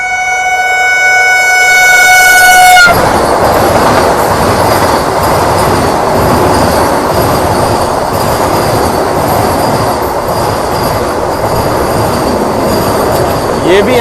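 The 12753 Marathwada Sampark Kranti Express rolls along the rails with a steady loud rumble and clatter heard from on board, with high wheel squeal ringing out at the start before giving way to continuous track noise.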